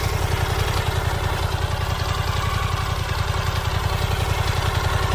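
A Harley-Davidson Pan America adventure touring motorcycle engine runs steadily up close, a loud, even, throbbing rumble with no change in pace.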